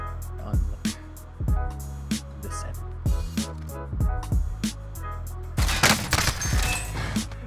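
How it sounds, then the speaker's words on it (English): Rapid bursts of gunfire in a Warzone-style multiplayer shooter video game, several sharp close shots and volleys at an uneven rhythm, getting denser and louder toward the end. "Hey, you're getting shot at."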